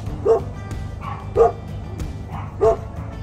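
Three loud, close dog barks come at roughly even intervals, with a quieter low background between them.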